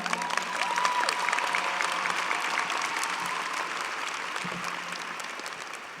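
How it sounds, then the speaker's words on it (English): A large commencement audience at Baruch College applauds the salutatorian with steady, moderately loud clapping that fills the hall evenly and carries on without a break. "please join me in another round of applause for our salutatorian and a person I'm happy to call my friend, Jean Sebastian Serena"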